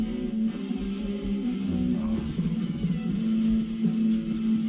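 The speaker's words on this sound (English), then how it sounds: "he uses a real fine emery cloth" In a racing shop, a part is rubbed by hand with fine emery cloth, making a close, continuous rhythmic scratching in quick, even strokes.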